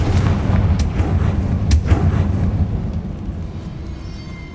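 Bombarda and Confringo spell explosions in Hogwarts Legacy give a loud, deep, rumbling blast with a couple of sharp cracks inside it. The low roar fades slowly over several seconds.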